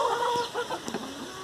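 Chickens cluck in a coop, several short, close clucks and murmurs overlapping in quick succession with no talking.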